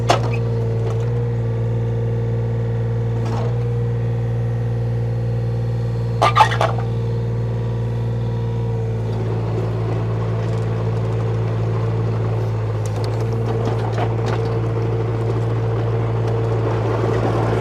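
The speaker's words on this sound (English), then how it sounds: "You can see there it'll spin the tracks without any questions asked." A 2006 John Deere 35D mini excavator runs with a steady low engine drone and hydraulic whine, with brief clanks and a rougher churning rise in the second half as its tracks spin, close and loud, no talk.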